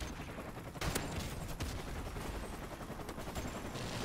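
Shotgun fire in a video game, with dense, continuous bursts of gunshots and sharper loud blasts over steady game noise and no talking.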